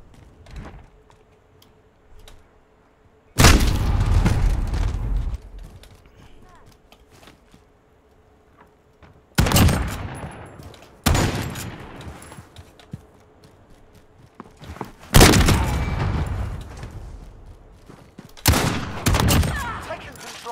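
Several bursts of rapid gunfire in an online multiplayer shooter game, loud and close, arriving in separate volleys with quiet gaps between them, alongside a player's talk.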